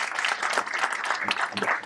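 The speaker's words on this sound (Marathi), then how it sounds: "एकदा ह्या सगळ्यांसाठी जोरदार टाळ्या झाल्या पाहिजे" Audience applause at a Loksatta book launch ceremony honoring the event sponsors: a brief, fairly faint patter of many hands clapping, steady for about two seconds.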